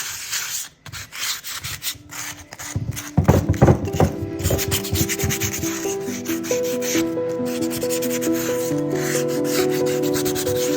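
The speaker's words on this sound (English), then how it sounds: "I'm just going to give it a light sand." Light sanding of a cherry burl bowl spinning on a lathe, a steady close rubbing hiss with a rising whine as the wood turns, continuous and loud after a few brief starts.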